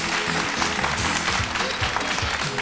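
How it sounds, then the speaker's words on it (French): A television studio audience applauds to welcome a guest onto the stage, a dense continuous wash of clapping with a low hum or music bed underneath throughout. "Il nous rejoint sous vos applaudissements, mesdames et messieurs."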